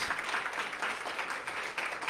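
An audience at a city council and mayoral candidate forum applauds, a soft, steady patter of clapping heard from a distance throughout the short stretch.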